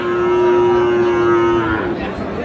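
A cow at a crowded cattle market gives one long, loud, close moo that holds steady and then trails off, with a murmur of voices from the market crowd behind it.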